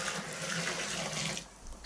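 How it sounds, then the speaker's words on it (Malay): Hot water poured into a container while making liquid laundry soap, a steady hissing splash that runs for over a second and then tapers off, close and alone with no talking. "Kita sediakan air panas dulu, masuk ke dalam ni"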